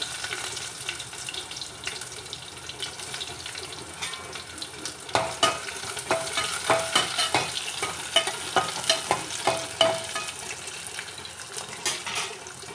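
Curry leaves and chopped onion fry in a spoonful of hot oil for a mushroom gravy, a steady crackling sizzle with repeated scraping stirs growing more frequent partway through, close and fairly loud with no voices.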